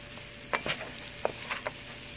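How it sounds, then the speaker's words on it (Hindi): Tomatoes go into a simmering chicken karahi masala, bringing a soft, quiet sizzle punctuated by a few light clicks and taps of a utensil against the pan. "अब हम इसमें टमाटर डाल देंगे।"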